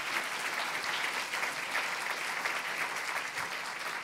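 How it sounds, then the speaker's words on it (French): An audience at a conference on circularity applauds its speakers, a sustained, even wash of clapping at moderate volume from start to finish. "Je vous propose de remercier nos speakers et speakers et de les applaudir chaleureusement"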